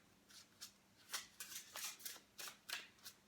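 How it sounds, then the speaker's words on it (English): Tarot cards being shuffled by hand, a quick series of soft, crisp riffles and flicks, quiet and close. "while I'm shuffling."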